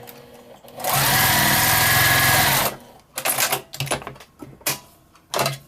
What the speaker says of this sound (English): we're going to sew right down that trunk